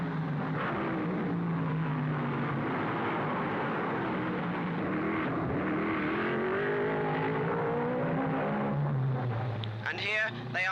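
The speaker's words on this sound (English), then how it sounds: "Here we see the two rounding the gasworks hairpin nose to tail." 1955 Formula 1 racing cars round the gasworks hairpin at the Monaco Grand Prix, nose to tail, their engines droning and rising in pitch as they accelerate out of the bend, with a voice talking over them.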